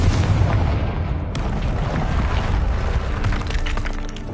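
A Confringo blasting spell explosion in the Hogwarts Legacy video game, a loud booming blast with crumbling, shattering debris that rumbles on for several seconds.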